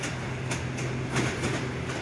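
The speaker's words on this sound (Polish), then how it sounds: "Jedzie następny pociąg." A Polregio regional train pulls into Kołobrzeg station, a steady low rumble with faint rhythmic clicks of wheels over rail joints, moderately close and continuous with no talk.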